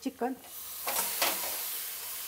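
Chicken sautéing on a low flame in a steel kadhai for lapthapi chicken gives a soft, steady sizzle with a few stirring scrapes, and a voice speaks briefly at the start.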